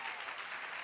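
A church congregation bursts into steady, dense applause, many hands clapping together in a loud, continuous wash with no pause.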